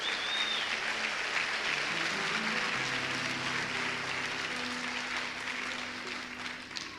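Steady applause from an audience, a dense wash of clapping that holds for several seconds and then eases slightly toward the end.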